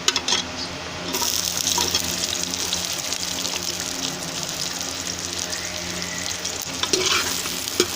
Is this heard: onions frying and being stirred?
yes